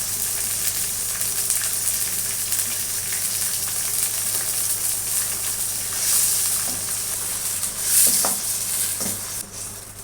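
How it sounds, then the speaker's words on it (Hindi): Minced meat (keema) for bhuna dam qeema frying in a pan: a loud, steady, close sizzle with occasional scrapes of stirring. "हम इसको कीमे को तब तक भूनेंगे जब तक इसकी शक्ल गोश्त की चेंज नहीं हो जाती।"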